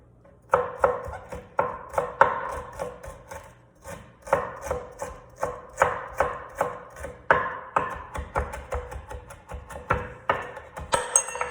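A knife roughly chops a knob of ginger on a cutting board in a steady run of close, sharp chops.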